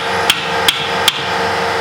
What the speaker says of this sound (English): I like to hit it with a hammer a little bit